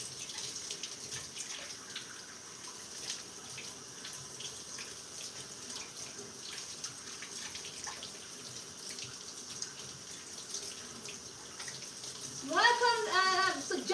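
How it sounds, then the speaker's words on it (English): Hands washed under a running kitchen tap during dumpling preparation, a steady low hiss of flowing water lasting throughout, fairly faint, with a louder voice breaking in near the end. "I went to wash my hands"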